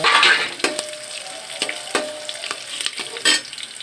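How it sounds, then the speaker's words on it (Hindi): Coriander and green chillies sizzle in a hot pan while a spoon scrapes and stirs them in irregular strokes, close and fairly loud, with no talk. "धनिया हरी मिर्ची को डाल लेंगे। उसके बाद इसे भूनेंगे,"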